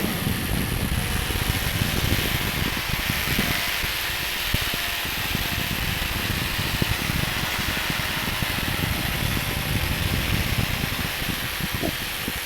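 A Lazy Boy recliner rigged as a small powered aircraft drones with a steady, loud engine roar and wind rush while airborne and turning, holding a constant tone with no voices.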